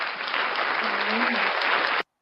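A crowd claps and cheers steadily for about two seconds, a dense burst of applause that cuts off abruptly, with a voice briefly audible underneath.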